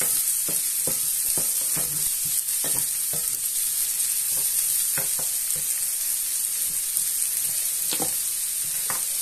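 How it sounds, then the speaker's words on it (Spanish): Green beans with red pepper sautéing in a pan, a constant bright sizzle punctuated by repeated clicks and scrapes of a utensil tossing the vegetables; no voices. "Pues lo salteamos un poquito."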